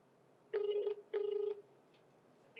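Two bursts of a telephone ringing as an outgoing call connects, each ring a warbling electronic tone lasting about half a second with a short gap between, fairly clear over a quiet background.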